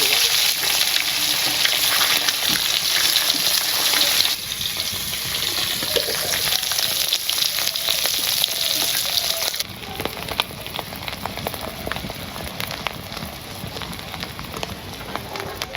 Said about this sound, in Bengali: আমার ডিম ভাজা হয়ে গেছে, নামিয়ে নিতেছি।